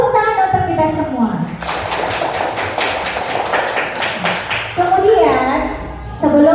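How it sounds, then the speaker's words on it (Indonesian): Children in an Indonesian classroom clap their hands together in a brisk, rhythmic burst lasting about three seconds, framed by a voice speaking before and after. "Tepuk tangan untuk kita semua."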